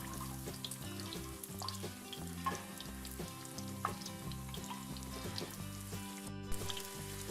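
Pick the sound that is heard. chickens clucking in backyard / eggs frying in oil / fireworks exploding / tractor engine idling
eggs frying in oil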